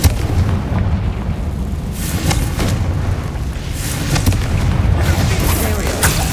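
Confringo fire-blast spell from the Hogwarts Legacy video game: a continuous barrage of booming, crackling explosive bursts, loud and dense throughout, with several sharper impacts standing out over the rumble.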